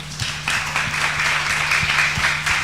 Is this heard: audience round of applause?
yes